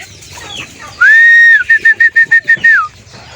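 Chickens (manok) cluck while being given feed, loud and close. A sustained whistle-like call runs alongside a quick series of about eight short pulsing clucks, with no speech.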